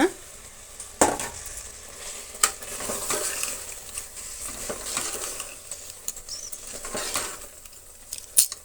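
Rice stirred and briefly fried in a pan for spinach egg biryani, a soft sizzle under repeated sharp scrapes and clinks of a spoon against the pot.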